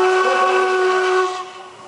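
Steam locomotive whistle on an official tourist train at a Zvolen grand prix event, a loud, steady harmonic blast held for over a second before trailing off into hiss.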